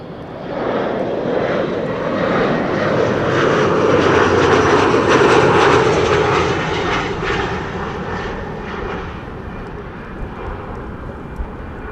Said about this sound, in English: This is KLM flight 1284 arriving from Aalborg.